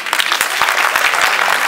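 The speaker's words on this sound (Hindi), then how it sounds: "बिहारी लोग हैं ताली बजा दीजिए।" Audience applause from a crowd at a comedy performance during a foundation day and award ceremony: dense, steady clapping at full volume throughout, with no voices on top.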